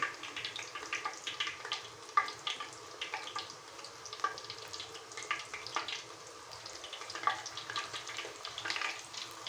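Puri frying in ghee in a small kadhai gives a steady, close crackling sizzle with scattered pops, continuous throughout with no talking.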